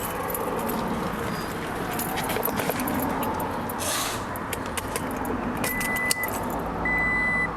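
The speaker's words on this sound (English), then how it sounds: "we're actually going to go ahead and put the keys in the ignition just to make sure that this is actually working" Keys jangle and go into the ignition of a 2018 Toyota Tacoma in a close, clinking burst, with a faint steady tone over the vehicle's background hum.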